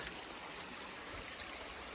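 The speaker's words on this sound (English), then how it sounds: "It's literally bubbling out of the ground right here." Water bubbling out of the ground near old mines makes a steady, soft, stream-like wash with no voices over it.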